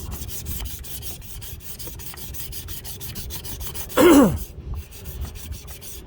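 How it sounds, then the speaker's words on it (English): Sandpaper rubbing gently over the broken section of a fishing pole before epoxy, a close, steady run of short scratchy strokes with a brief louder squeak partway through and no talk. "I'm going to sand the area very gently, just enough so my epoxy can grab onto this fishing pole."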